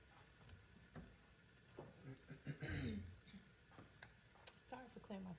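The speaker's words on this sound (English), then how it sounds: "Sorry for clearing my throat" During a home cooking session making vegan meatballs, a person briefly clears their throat once near the middle, a short, rough burst in an otherwise quiet recording with faint ticks and light movement around it.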